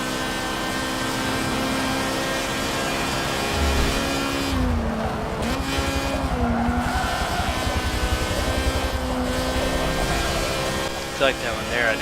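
A Wankel rotary-engined race car in Forza Motorsport 7 roars steadily through a tunnel with a high buzzing engine note, shifting pitch briefly, loud and continuous.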